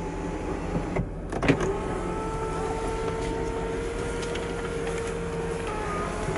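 Electric sunroof on a Range Rover Vogue TDV8 sliding open, a smooth steady motor whine running for several seconds after a brief click, close and moderately loud with no talking.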